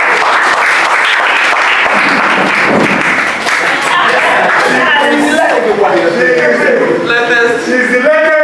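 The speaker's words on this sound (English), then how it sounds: "a round of applause." A political party debate audience claps in a long, loud burst of applause, with voices and some tonal sounds rising through the clapping toward the end.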